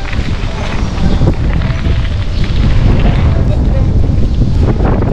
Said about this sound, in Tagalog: Malakas pa rin yung hangin pero wala na pong ulan.